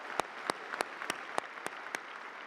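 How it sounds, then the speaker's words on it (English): A commencement audience applauds with a steady wash of clapping. Sharper individual claps stand out at regular intervals. "Let's give her one more round of applause"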